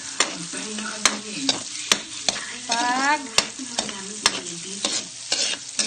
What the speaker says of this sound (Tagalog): Sandali sa pag-isa ng sibuyas na pula.